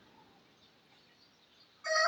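A rooster crows loudly and close in a rural Portuguese homestead, a single burst arriving only at the very end after a long stretch of faint, quiet background.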